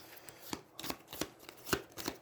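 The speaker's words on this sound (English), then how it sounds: "Oh, I got to shuffle." Playing cards shuffled during an Aeons End 2nd Edition cooperative deck-building game: a quick run of crisp riffling snaps and papery flutters, close and fairly soft, with no voices.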